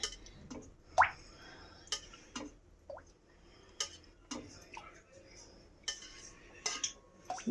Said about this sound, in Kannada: ನೋಡಿ, ಒಂದು ಟೇಬಲ್ ಸ್ಪೂನಿಂದ 8 ಸ್ಪೂನಷ್ಟು ಎಣ್ಣೆ ಹಾಕ್ಕೊಂಡಿದ್ದೀನಿ.